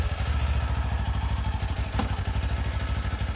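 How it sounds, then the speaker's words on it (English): A motorcycle engine idles close by with a steady, rapid thumping pulse and a low mechanical rumble throughout, with no voices. "So we're gonna get into gear, turn on the bike, and then we're gonna draw and see what happens."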